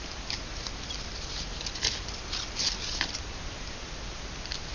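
Scissors snipping paper for a shabby chic journal pocket, a few soft close cuts over a steady hiss of background noise.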